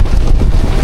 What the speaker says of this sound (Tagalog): At dito nagsimula naman lumakas ang hangin at ang ulan.